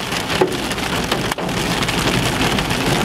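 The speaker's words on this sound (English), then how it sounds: "Look at the hail bounce" Hail pounds a storm-chasing vehicle in the Mississippi Delta, a loud, dense, unbroken clatter of pelting stones with a brief dip partway through.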